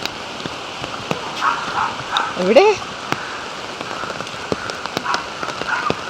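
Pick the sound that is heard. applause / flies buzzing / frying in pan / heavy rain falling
heavy rain falling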